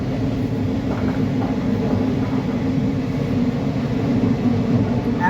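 Steady low rumble and rattle inside a moving ICF coach on the 07032 Pandharpur to Tirupati special train, continuous and fairly loud with dense low-end clatter throughout and no talking.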